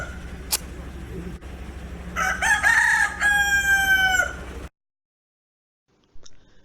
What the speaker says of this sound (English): a cock-a-doodle-doo waking us all.